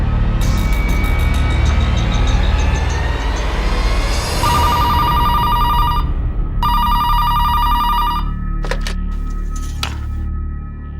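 A telephone rings in repeated bursts of a bright electronic tone, loud and close, over a heavy low rumble of music or noise, with a couple of short clicks at the end.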